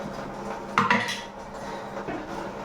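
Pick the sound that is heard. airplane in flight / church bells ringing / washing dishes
washing dishes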